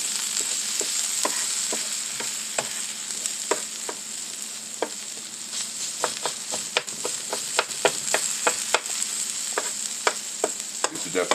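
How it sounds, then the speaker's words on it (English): Onions frying for Big Mac smash tortilla burgers give a steady close sizzle, broken by frequent sharp ticks and scrapes of stirring throughout, with no talking. "And the onions is cooking really fine."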